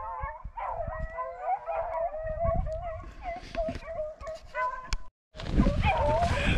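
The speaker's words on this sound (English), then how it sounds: "Wait for the dogs to make it down here." Hunting dogs on a farm rabbit hunt bark and howl in a loud, continuous chorus of yips and drawn-out bays, close by, with a brief gap before the baying resumes.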